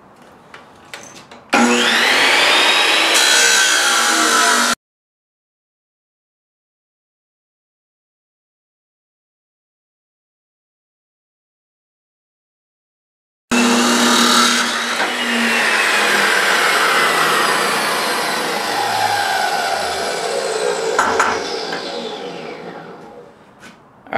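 A chop saw cuts through steel in two loud, harsh grinding bursts separated by a long stretch of silence, the second cut running longer and gradually winding down at the end.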